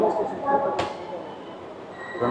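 A train rumbles through a busy station, with a short sharp screech and people talking in the background.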